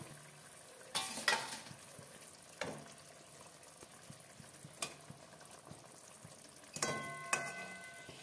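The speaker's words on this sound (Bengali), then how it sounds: "মাছগুলো দিয়ে দেবো একটা একটা করে।" Katla fish kalia simmers in a pan of spiced gravy with yogurt and water as fish pieces go in, a faint steady bubbling under a few louder sizzling splashes and clatters spaced apart, no talk.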